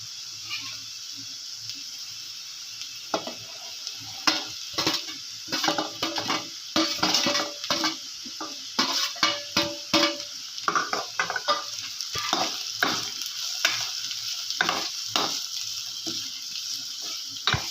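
Shredded cabbage is stirred into hot gravy for soybean rice, sizzling and frying loudly in the pan while a spoon scrapes and clatters against the metal in irregular bursts.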